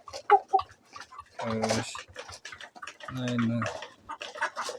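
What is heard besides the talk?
chickens and roosters clucking in a farm coop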